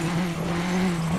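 A rally car in the WRC 9 game locks its brakes and slides wide off a mixed wet and icy Monte Carlo stage, giving a brief continuous tire squeal with a droning engine tone underneath.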